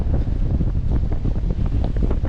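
Strong wind buffeting a boat at sea on a crossing from Mindoro to Navotas, a loud gusty roar against the microphone with rushing water beneath, steady throughout.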